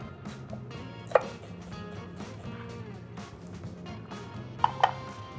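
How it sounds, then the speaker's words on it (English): A knife chops a shallot on a cutting board while a smoked tomahawk steak and steakhouse butter are prepared; a few sharp, separate chops stand out over steady background music. "give this a little chop."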